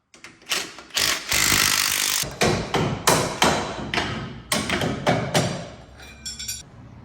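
Loud metallic clanks, thumps and sharp tool knocks come in quick irregular bursts, close by, as suspension parts are unbolted around the shock tower of an FJ40 Land Cruiser. No one talks.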